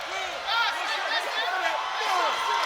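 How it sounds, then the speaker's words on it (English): A crowd at an MMA fight roars and cheers continuously, loud and dense, with whoops rising and falling under a commentator's voice. "Crowd are going crazy for him"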